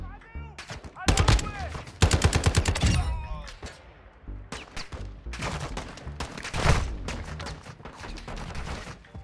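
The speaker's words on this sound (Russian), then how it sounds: "Это вот сюда стреляют боты?" Gunfire in the Call of Duty DMZ video game: dense, loud bursts of automatic shots and rapid single cracks, nearly continuous, with a player talking over it.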